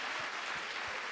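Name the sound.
audience applauding loudly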